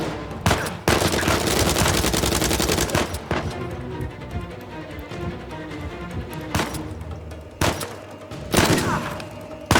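Loud, close gunfire from a third-person shooter, Uncharted 4: A Thief's End, with rapid automatic bursts and single sharp shots that repeat through the whole stretch over a busy game soundscape.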